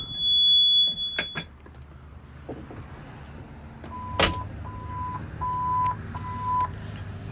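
Four evenly spaced electronic beeps aboard a 2021 Twin Vee 240 GFX boat, clear and moderately loud, following a few knocks and a sharp bang, with a low hum underneath.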